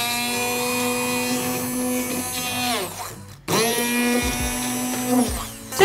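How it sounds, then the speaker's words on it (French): Immersion blender whirring as it purees fruit in a kitchen, a loud steady motor drone that dips and stops briefly near the middle, then restarts and runs on with the pitch shifting as it works through the fruit. "on va le passer au robot, au mixeur plongeant"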